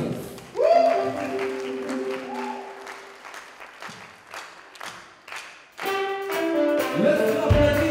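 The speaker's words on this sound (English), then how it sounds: "Let's put our hands together for Jesus." Church congregation clapping during a worship service, scattered claps mixed with singing or musical tones and voices, rising and falling in loudness rather than one steady burst.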